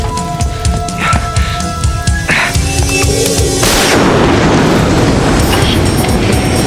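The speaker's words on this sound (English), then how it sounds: "By the way, Ed, these are my own exploding shells." Loud cartoon exploding shells going off as a warning shot, a dense rumbling blast and roar building into sustained booming noise, with music-like tones early on.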